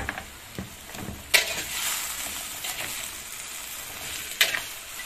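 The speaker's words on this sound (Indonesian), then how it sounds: "Lalu ditumis." Corn and water spinach stir-fried in a pan, with soft continuous sizzling and a few sharp scraping clicks of the utensil against the pan, near and moderately faint, no talking.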